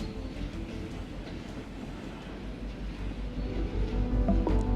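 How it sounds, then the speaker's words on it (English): A train in a visual novel game clatters steadily along rails, a continuous low rumble with faint rhythmic clicking that grows slightly louder toward the end, with no voices. "Views from the train."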